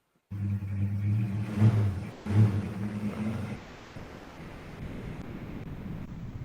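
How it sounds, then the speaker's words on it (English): A truck engine starts up and revs as the vehicle speeds away, a loud low rumble that swells twice and then fades into a steady whooshing wash, played as a radio-drama sound effect for a live Star Trek script reading. "She starts up the truck and speeds away."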